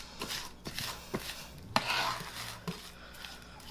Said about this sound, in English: I'm using the knife blade to kind of squash everything.